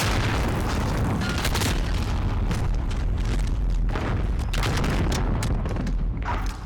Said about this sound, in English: Cruise missile, go for launch. Got that one!